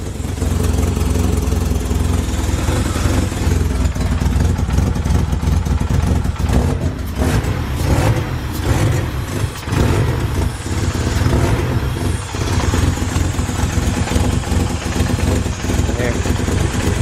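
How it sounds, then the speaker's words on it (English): A turbocharged Honda CR-V with a built GSR head idles roughly and loudly up close, its exhaust leak adding a ticking, chuffing edge, with occasional throttle rises and people talking over it. "It's alive. With an exhaust leak."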